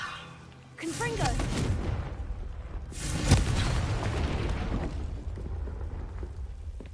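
A booming Confringo fire-blast spell in Hogwarts Legacy, a loud sustained explosive rumble that swells up, with a second sharp burst a couple of seconds later.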